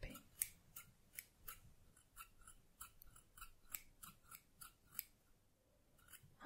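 Scissors snipping hair in a close, quiet whispery setting, with crisp repeated cuts in an uneven rhythm and short pauses, soft and intimate, with no voice.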